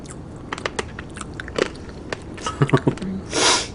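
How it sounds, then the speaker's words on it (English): Close crunching and chewing sounds of biting into chocolate cake topped with crunchy sprinkles, with crisp crackly bites in quick clusters, followed by a short breathy exhale. "The sprinkles are definitely crunchy."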